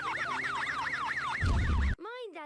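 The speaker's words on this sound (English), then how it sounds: "Girls, you know the siren is only for emergency." A police car siren in the Peppa Pig cartoon wails in a steady rising-and-falling cycle, loud and close, then breaks off into a cartoon voice and other effects.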